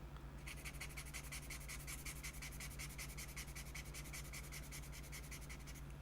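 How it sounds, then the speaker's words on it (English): Steady rhythmic rubbing and scraping, like a sanding block worked back and forth, continuous and close, with a low hum underneath. "Fine-tune that with the sanding block"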